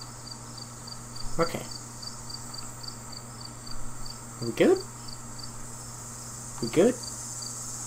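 Insects drone in a steady high buzz of cicadas in the Dread Out 2 game, continuous and fairly faint, while people talk briefly underneath with a few louder bursts.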